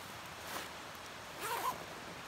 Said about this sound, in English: One big zipper to the top.